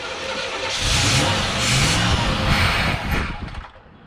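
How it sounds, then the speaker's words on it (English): A car engine cranks, catches and runs rough with surging revs, loud and close, then stumbles and fades out near the end; no talk over it. "Go ahead, start it again."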